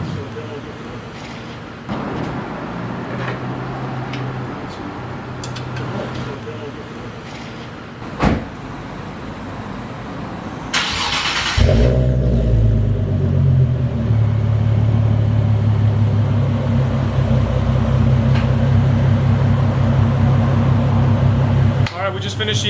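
A Nissan 370Z fitted with a Greddy Evolution GT cat-back exhaust, 2017 model year, idles with a steady deep rumble after a sharp start-up, following a stretch of quieter background noise and brief clunks.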